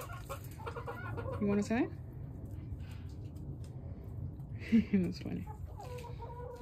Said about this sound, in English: And we have the other rooster right there.